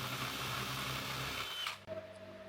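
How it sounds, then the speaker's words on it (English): A power drill bores into wood for a nesting box, whining steadily and close, then cutting off abruptly before a brief lower hum resumes. "Drill a hole in the piece of wood you want as well."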